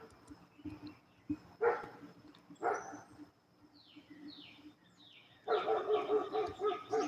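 Puppies yap and bark outdoors in short scattered bursts, then a longer busier stretch of yips near the end, with birds chirping faintly behind.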